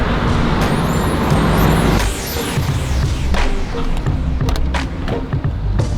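A car pulls up on a road in Fort Myers, its engine and tyre rumble loud and close, with a shift in the noise midway and brief higher squeaks and rattles as it slows.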